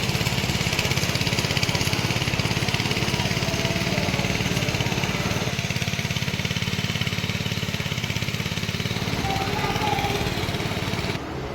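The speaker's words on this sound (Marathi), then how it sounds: "इकडे आता इकडे पाणी घ्यायचं झुगाड चालू आहे तुम्ही त्या मशीनच्या साह्याने आपण पाणी घेतो" A small engine-driven water pump chugs steadily nearby on a farm, drawing water for rice planting, a constant droning motor running without pause for the whole stretch.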